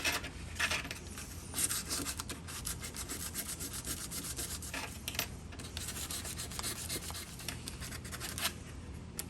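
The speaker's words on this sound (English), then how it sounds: "we're going to go ahead and hit it with some old 1200 grit sandpaper" 1200 grit sandpaper rubs over a flat steel lever key for antique furniture, making a steady, close, gritty scraping with faint rhythmic strokes that continues without pause and without talk.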